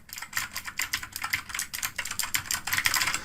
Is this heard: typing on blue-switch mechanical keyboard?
yes